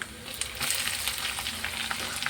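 Prawns frying with chopped onion and green chilli in a pan, a steady close crackling sizzle with faint stirring scrapes, continuous throughout.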